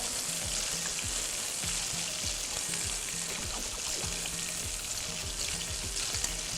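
Onions frying in a pan until brown for karhi pakora, a steady loud sizzle with a low rhythmic scraping pulse repeating under it throughout, no voices.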